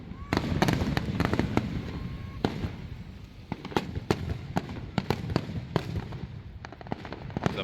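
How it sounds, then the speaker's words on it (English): Fireworks burst over a Lakeland crowd outside the main post office, a dense run of sharp cracks and booms at varying distances over a steady rumble of crowd noise. "Enjoy the firework with you guys."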